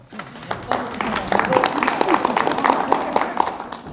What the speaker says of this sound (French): que vous pouvez applaudir à nouveau